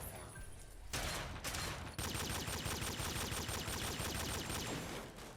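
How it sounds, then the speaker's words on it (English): Ceiling-mounted turret and a robo-brain opening fire in a video game, a loud, sustained rattle of rapid automatic gunfire after a brief pause, pounding on steadily for several seconds. "immediately upon entry, we get attacked by a ceiling-mounted turret and a robo-brain"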